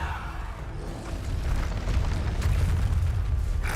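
A Bombarda spell blast in Hogwarts Legacy, a heavy rumbling explosion that swells and holds as a deep, roaring boom, loud and close, alone with no voices.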